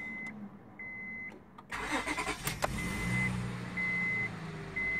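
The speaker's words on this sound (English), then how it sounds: "So what I'm going to do is I'm going to start up a car and we're going to check it out." A 2004 Honda Odyssey minivan engine cranks and catches after a few soft chimes, then settles into a steady idle with a repeating dashboard beep, close up inside the car.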